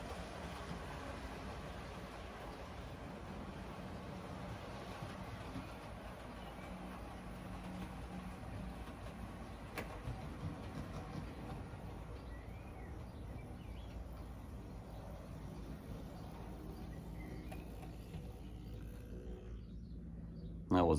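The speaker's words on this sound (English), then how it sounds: "I'm going to bring this train to a halt" A Class 52 model railway locomotive runs on a loft layout, giving a steady, continuous mechanical rumble and whir at moderate level for about twenty seconds, with no distinct stop before a brief louder knock at the very end.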